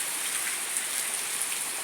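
Heavy rain pours steadily on a windy rainy day, a dense, unbroken hiss of countless drops striking surfaces close by, with no voices.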